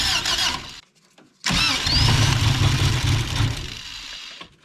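The swapped engine in a Subaru BRAT cranks and sputters, cuts out briefly, then catches and runs rough and loud with uneven revving before dropping away.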